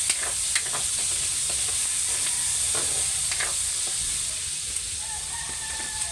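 Chicken adobo being sautéed in hot oil, a steady close sizzle with occasional stirring clicks throughout.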